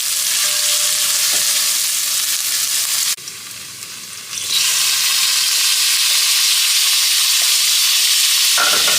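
Onion, garlic and pepper frying in a pot for saltfish give a loud, continuous close sizzle. It drops away briefly near the middle, then returns just as strong.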